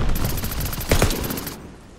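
Rapid automatic gunfire in Call of Duty Vanguard aimed at a window, a fast close burst of shots lasting about a second and a half before cutting off.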